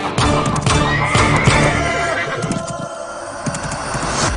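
A horse neighs loudly and at length in a busy outdoor scene, its whinny rising over a dense, noisy mix of background sound.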